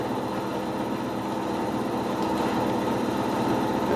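A milling cutter works its full width through gummy, sticky metal at a slightly increased feed. It makes a steady, loud, close buzzing and rumbling grind with a fine rapid texture, and no pauses or voices.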